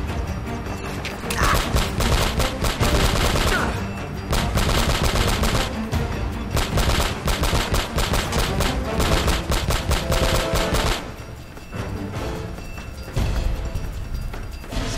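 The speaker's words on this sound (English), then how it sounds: "Shotgun, dude." Shotgun blasts and heavy gunfire from the video game Uncharted: Drake's Fortune, loud and dense with repeated booming shots layered over game music and effects, nearly continuous across the stretch.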